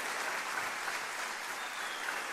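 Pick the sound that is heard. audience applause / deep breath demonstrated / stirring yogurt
audience applause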